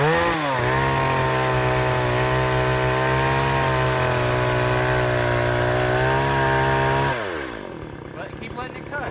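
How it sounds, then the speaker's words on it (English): A chainsaw cuts wood, its engine snarling loud and close at a high steady pitch, rising once, then dropping away as the cut finishes and the saw slows, with a voice speaking over it. "Let the saw do the work. Just let it go."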